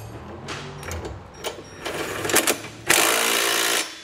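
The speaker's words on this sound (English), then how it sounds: "We can now go back and tighten down our hardware. We'll use that 15mm socket once again for our factory hardware." A socket wrench tightens factory trailer hitch bolts on a 2021 Ford EcoSport: quick ratcheting clicks and bursts, closing with a sustained buzzing ratchet run of about a second, close and fairly loud.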